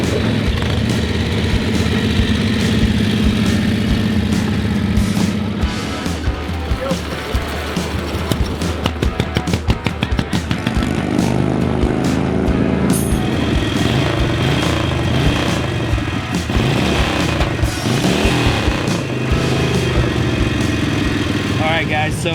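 A 100-year-old vintage motorcycle with a 45 cubic inch engine runs loud and steady throughout, its rough throbbing note shifting in pitch as it is revved, with faint voices in the background.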